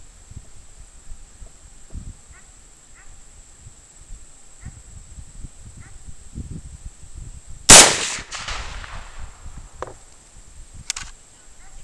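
One loud, sharp M1 Garand rifle shot fired with HXP and reloaded ammunition, followed by a brief metallic clack, against a quiet outdoor background with faint rustling.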